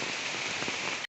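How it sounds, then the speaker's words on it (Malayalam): Steady rain falls on a forest trail leading to Meenmutty waterfall at Kallar near Trivandrum, Kerala, a dense, even hiss that holds unbroken for about a second and then cuts off abruptly. "നമ്മളെന്തായാലും മഴയൊക്കെ നനയാൻ തീരുമാനിച്ചു."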